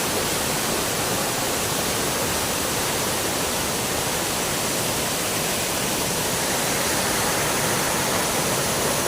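Bantakay Falls pours in a dense, constant broadband roar, loud and close, with no break or change across the whole stretch.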